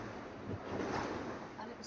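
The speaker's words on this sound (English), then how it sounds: "but because the sea is so absolutely dreadful. You can probably hear that." Rough open-ocean waves wash and slap around a racing Dazcat catamaran, a broad roaring surge that swells midway under steady wind noise, with no clear speech.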